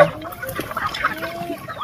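Sick Rhode Island chickens cluck nearby in a short burst of soft, overlapping clucks against quiet outdoor background noise.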